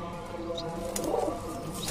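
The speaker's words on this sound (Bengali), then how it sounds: "আমাদের এই যে এখানে ছটা কবুতর আছে দেখেন" Semi-adult Kamagar pigeons kept on a balcony coo softly in a low, steady murmur, with a faint voice talking over them.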